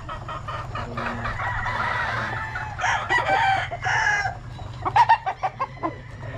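Gamecock stags, young roosters being fed before a trip to Manila, cluck continuously and crow in several overlapping calls. Near the end a burst of sharp, rhythmic clucks comes up close over a low background hum.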